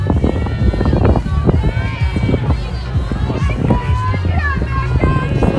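Gusty wind buffets the microphone in a loud, continuous rumble throughout, at a varsity softball game on a windy afternoon, with voices and outdoor activity in the background.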